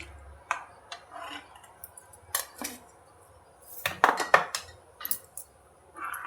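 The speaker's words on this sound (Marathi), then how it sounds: "आणि असं हलवत हलवतच शिजवून द्यावं लागतं याला" A utensil stirs mixed-dal kadhi cooking in a pot, giving scattered, fairly quiet clinks and scrapes against the metal that bunch into a busier cluster midway.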